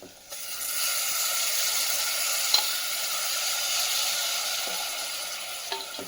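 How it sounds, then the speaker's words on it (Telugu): Soaked, washed rice tipped into a pan of hot sizzling paste for aloo bath, giving a steady, close frying sizzle throughout with a couple of small clinks. "ముందుగా ఒక 5 నిమిషాల ముందర కడిగి నానబెట్టుకున్న బియ్యాన్ని అందులో కూడా వేసేయాలి"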